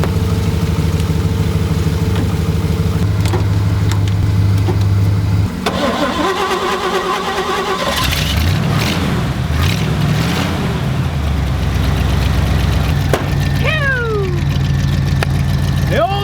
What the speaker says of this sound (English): We just started the C10 up.